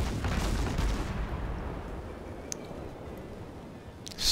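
A warship's guns fire in World of Warships, a heavy booming blast and rumble at the start, easing into a low roar, then another sharp crack and a rising boom at the end.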